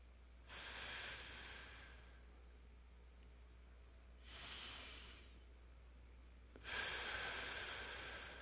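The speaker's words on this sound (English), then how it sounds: "So take a couple of deep breaths." Three slow, deep breaths taken during a guided morning meditation, each a soft airy hiss of inhalation or exhalation, the last one loudest, set against a quiet room.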